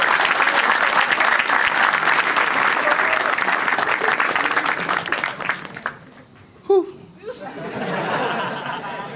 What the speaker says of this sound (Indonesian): Tepuk tangan banget nih buat Alif